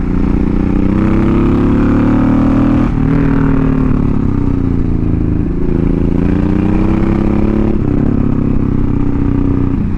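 A Honda VTX1800 cruiser motorcycle being ridden in the evening, its loud, deep engine droning steadily with a few gear-shift dips and pitch changes, heard close and continuous for the whole stretch without speech.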